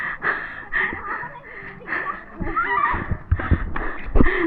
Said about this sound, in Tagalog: hingal na ako